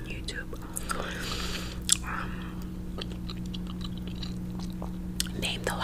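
Chewing gum worked close to the mouth in a soft ASMR setting: wet, sticky smacks and clicks repeat irregularly over a low background hum, with faint whispering mixed in.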